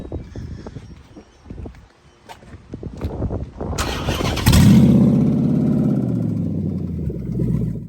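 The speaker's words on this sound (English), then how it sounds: "listen to the engine when under all the exhaust noise." A car engine cranks with some clattering, then fires up into a loud, deep, rumbling exhaust drone that keeps running steadily, no one speaking.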